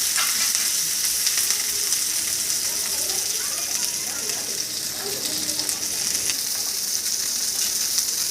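Dried red chillies and curry leaves frying with onion in a pan, a continuous hissing sizzle with light scraping and clinking from stirring, close and steady throughout.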